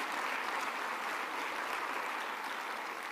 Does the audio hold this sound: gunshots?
no